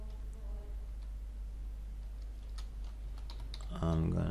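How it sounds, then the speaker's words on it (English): Keys clack quickly on a computer keyboard as an email address is typed on a Windows 11 PC, light rapid taps over a low hum, with someone speaking at the end. "I'm gonna type example outlook.com."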